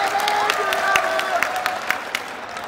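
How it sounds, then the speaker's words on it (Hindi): Crowd applause at a Congress party rally in Roorkee welcoming a new member, steady clapping with sharper claps standing out, fairly loud, over a faint tonal background. "सबका ताली बजाकर स्वागत कीजिए कांग्रेस परिवार में"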